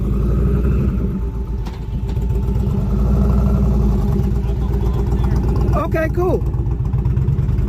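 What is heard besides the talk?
motorcycle driving past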